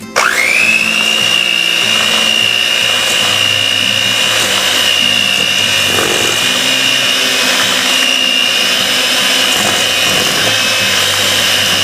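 Electric mixer creaming butter with granulated sugar for snickerdoodle dough, a loud, steady motor whine that runs unbroken from start to finish with no voices over it.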